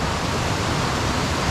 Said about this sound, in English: that there is the start of this first Ore River waterfall